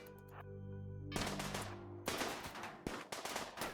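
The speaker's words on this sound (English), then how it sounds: "I'm just gonna force the turrets to shoot at me from the safety behind this wall." Turret guns in the video game Rimworld fire in rapid bursts, a harsh crackle of repeated shots that starts and stops several times over a steady game drone, with no talk.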